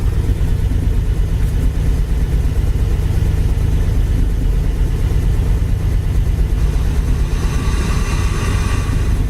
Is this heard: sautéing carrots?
no